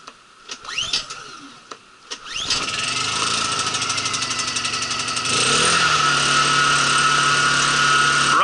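Honda EU2000i portable generator pull-started: a few sharp cord pulls and sputters, then the small engine catches and settles into a steady, close, even running hum.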